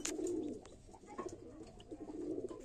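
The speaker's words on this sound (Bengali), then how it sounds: "তো পায়রা দেখো কিভাবে রেডি করছি টুর্নামেন্টে রেডি করার জন্য" A pigeon being prepared for a racing tournament coos close by in soft, throaty repeated rolls, quiet and alone, with a few faint clicks.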